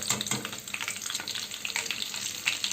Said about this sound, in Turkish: Şimdi yağını kızartacağım.